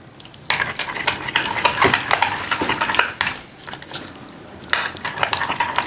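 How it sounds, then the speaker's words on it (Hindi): Cucumber mayonnaise white sauce being mixed in a bowl, a close, rhythmic run of wet scraping and clicking strokes with a brief pause before the stirring resumes. "और अब हमने इसको अच्छी तरह से मिक्स करना है।"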